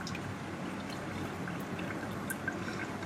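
Water runs steadily from a tap in a kitchen while intestines are cleaned, a continuous soft pouring trickle at moderate, even loudness with no voices over it.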